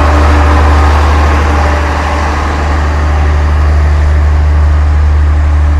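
The KA Batara Kresna train's diesel engine idles at Wonogiri with a loud, steady, deep hum and constant rumble, unbroken throughout.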